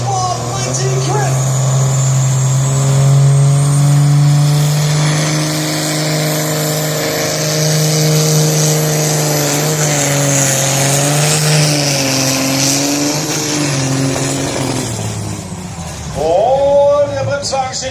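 Farm tractor in a 3.6-tonne pulling class hauling a heavy brake sled at full throttle, a sustained loud diesel drone that holds steady for many seconds before rising revs near the end, with an announcer talking over it.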